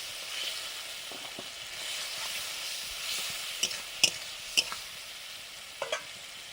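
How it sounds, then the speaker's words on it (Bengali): Fish cooking in a pan with thick tamarind paste, a steady bubbling sizzle throughout, broken by a few sharp spoon-against-pan clinks and stirring scrapes toward the end. "মাছগুলো দিয়ে দিলাম মোটা তেঁতুলের কাইটার সঙ্গে মাছটা রান্না করছি"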